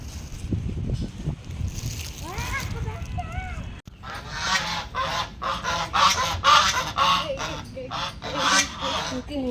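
Ducklings calling nearby, a run of short rising peeps followed by repeated harsher bursts of quacking, with faint outdoor background noise.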